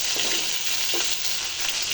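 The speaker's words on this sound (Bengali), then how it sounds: "মাছ ভাজবো মাছ ভাজতেছি" Fish fries in a hot pan with a dense, steady sizzle and crackle close up, with a couple of soft stirring shuffles and no voices.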